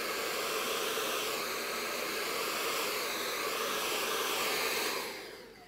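A hair dryer roars loud and steady as it blow-dries straightened hair at the roots, a close, continuous airy rush that falls away at the end.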